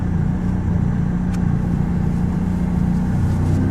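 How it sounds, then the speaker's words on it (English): A McLaren 675LT sports car drives along with a steady, low engine drone and road rumble, held at an even level throughout without any talk. "First time properly driving my 675 LT."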